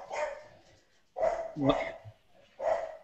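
A dog barks three times in short, evenly spaced bursts, close and fairly loud, during a talk about the Dawn mission to Vesta.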